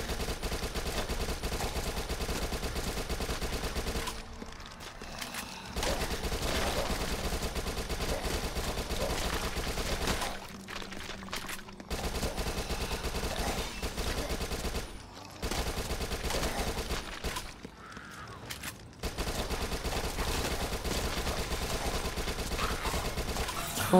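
Submachine gun fire in Dead Nation, long sustained bursts of rapid shots with a few short pauses between them, loud and dense.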